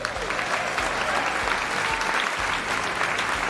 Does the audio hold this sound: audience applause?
yes